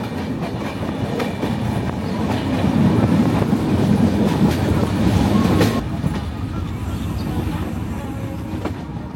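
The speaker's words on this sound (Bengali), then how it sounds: "দুর্বার গতিতে ছুটছে আমাদের ট্রেন।" A passenger train on the way to Jashore runs at speed toward Mobarakganj station, a loud continuous rumble with rhythmic clickety-clack of wheels on rail joints and steady carriage rattle.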